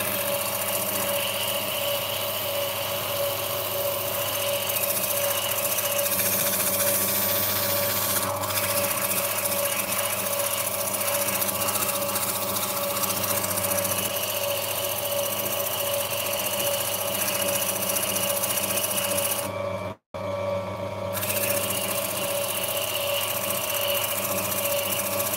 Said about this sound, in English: And we'll grind it off instead.